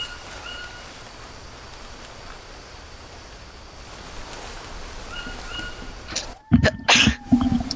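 A sneeze in the survival game Green Hell bursts out near the end, sharp and close, after several seconds of soft steady jungle ambience.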